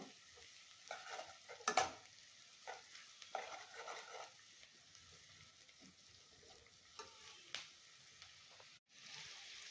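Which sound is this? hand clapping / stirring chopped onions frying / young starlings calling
stirring chopped onions frying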